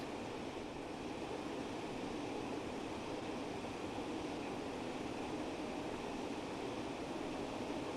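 A train passes beside a Class 47 diesel locomotive on a run from Penzance toward Edinburgh, heard as a steady, faint, broadband rumble and rush without distinct beats.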